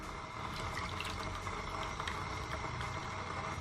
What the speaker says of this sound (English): you guys can just pour the juice like this.